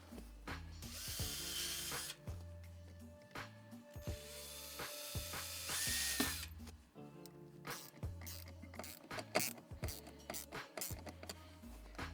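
A power drill bores holes into the plastic of a truck gun mount in two short, noisy bursts, with clicks and handling noises between them.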